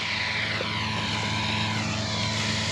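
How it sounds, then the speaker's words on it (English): A tractor labors slowly while cutting thick ryegrass for silage, its engine giving a steady, moderately loud drone with no talking. "That's making them making that tractor work."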